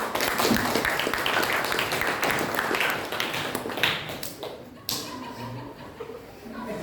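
A classroom audience claps together, a dense burst of applause that tapers off and thins into scattered claps and light taps, with some murmured speech underneath.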